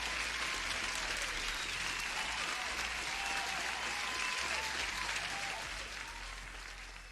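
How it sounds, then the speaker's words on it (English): Steady applause from a crowd, continuous and fairly loud throughout, tapering off slightly toward the end. "Let me get an applause for you, Dominic."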